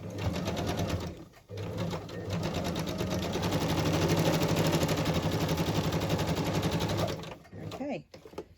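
A sewing machine stitches down fabric embellishments in one long, steady run of rapid mechanical chatter, close and loud, briefly pausing once before resuming and then stopping.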